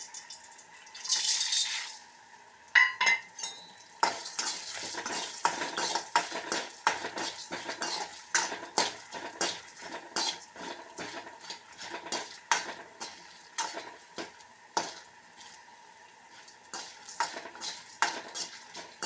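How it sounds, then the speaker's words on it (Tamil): Toor dal and dried red chillies roasting in a little oil in a pan, with steady scraping and clinking of a metal spatula against the pan, brisk irregular stirring strokes at close range and no talk. "அதே பேனில் கொஞ்சமாக எண்ணெய் விட்டு நம்ம இந்த துவரம்பருப்பும் காஞ்ச மிளகாயும் நம்ம வறுத்து எடுக்க போகிறோம்"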